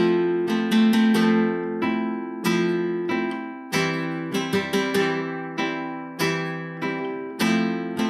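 Flamenco guitar rasgado strumming with four fingers fanning out one after another, loud bright chord bursts in an uneven accented rhythm over about eight seconds, with no voice.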